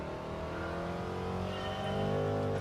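Race car engine in Gran Turismo 7 revving up steadily, a rising buzzy harmonic drone that strains higher toward the end, moderately quiet and heard alone without talk.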